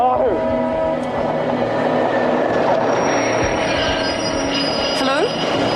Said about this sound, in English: But a train's coming.